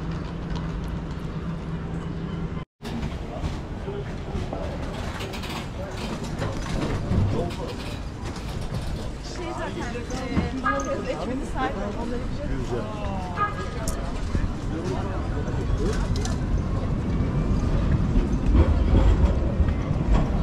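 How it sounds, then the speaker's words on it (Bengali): A packed train in Istanbul, with steady rumbling and rhythmic clattering mechanical noise throughout, growing slightly louder toward the end while people talk over it. "ইস্তাম্বুলের train, O my god, full full full full full full full full."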